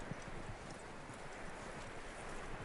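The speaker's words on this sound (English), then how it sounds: "That looks like a decent horse." In the Red Dead Redemption 2 video game, a horse's hooves clip-clop in a steady, continuous rhythm, fairly quiet under broad background noise, with no clear whinny standing out.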